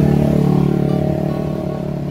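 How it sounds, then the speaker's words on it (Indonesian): Engine noise from a motorcycle with a loud exhaust revving on Jalan Pondok Cabe Raya near a bridge, a steady close rumble that fades slightly over about two seconds, with no voices. "ada knalpot nggak sopan lagi tadi"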